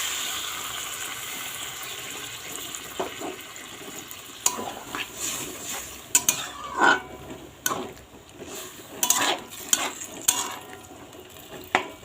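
Okra masala cooking in a pan after water goes in, with a low, steady simmering sizzle broken by sharp stirring scrapes and clinks of a utensil against the pan; no talking is heard.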